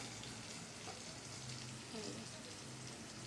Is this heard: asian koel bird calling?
no